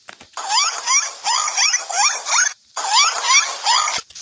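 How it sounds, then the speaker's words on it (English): A dolphin makes bursts of rapid, rising high whistles and chirps, repeated in several clear phrases with a short pause between them. "Dolphin."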